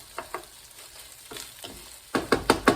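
Rice for a pumpkin shrimp risotto being stirred in a sizzling pan, with a few soft scrapes and then a louder burst of quick, rhythmic sizzling strokes near the end.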